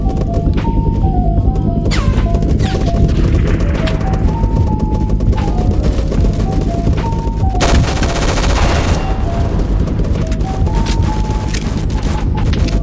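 Gunfire in the Roblox war game Rolling Thunder, with loud continuous volleys and booming shots over a dense battle din, a sharp burst near the middle, sustained without pause.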